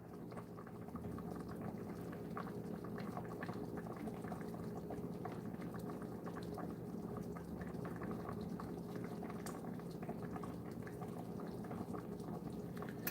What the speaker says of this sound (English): See, it's boiling now.